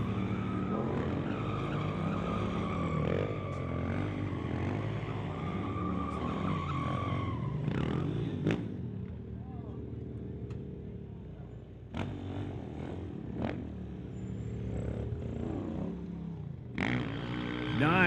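Stunt motorcycles doing wheelies at Mission Raceway, engines revving and whining up and down over a drag-strip crowd, with sharp throttle blips and a commentator talking over the noise.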